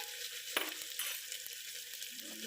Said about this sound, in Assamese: পিয়াজখিনি অকণমান ৰঙা হওঁতে মই এইফালে আদা নহৰু পেষ্টটো দি দিলো।